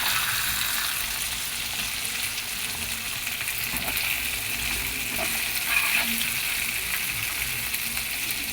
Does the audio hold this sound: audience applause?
no